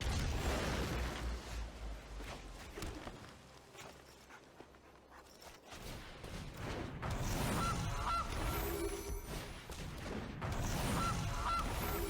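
Goose honks from the Double Goose card in MTG Arena, the Magic: The Gathering digital card game, heard as several repeated nasal honks over busy game audio, growing louder in the later seconds.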